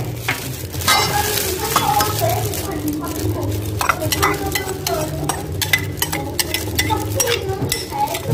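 Boiled pork ear tossed with a fish sauce, garlic, chili, lime and sugar dressing, stirred in a bowl with repeated wet squelches and utensil clicks in an uneven rhythm, close and fairly loud.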